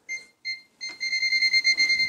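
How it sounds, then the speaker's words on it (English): A digital clamp meter's voltage detector beeps at a steady high pitch near an outlet: two short separate beeps, then a rapid continuous run of pulses that speeds up and grows steadier. "The closer you get, the faster it starts beeping."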